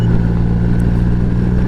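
Loud, steady motorcycle engine drone with low harmonic hum heard from on the bike while riding, constant without pauses over a short stretch.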